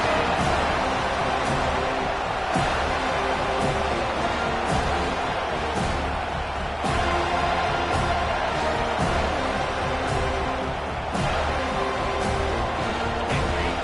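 Football stadium crowd roaring steadily for the defense on a big third down, a dense, sustained wash of cheering with occasional sharp bangs and no clear break throughout.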